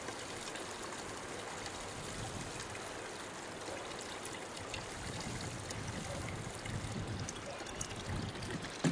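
Water runs steadily through sprouting grain as it is rinsed, a continuous close trickling and pouring wash that stays fairly quiet and even throughout, with no voices.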